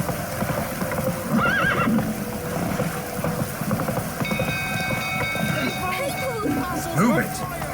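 A horse in The Witcher 3 video game gallops with rapid clip-clop hoofbeats and gives a whinny, under game music, ambient noise and a voice speaking.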